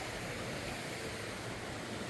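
River water rushes steadily beneath a trail bridge over the Big Branch River in Vermont, a continuous, fairly faint broadband wash with no talk.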